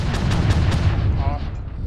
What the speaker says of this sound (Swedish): jag matar på lite här med mina automatkanoner